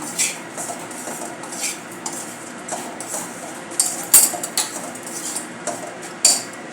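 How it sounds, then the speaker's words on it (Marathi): Kolhapuri bhadang, a spiced puffed-rice snack, being mixed with powdered sugar in a pan after the flame is switched off: a spoon scrapes and clinks against the metal in irregular light taps, closer and sharper near the end. "आता हे सर्व आपण मिक्स करूया."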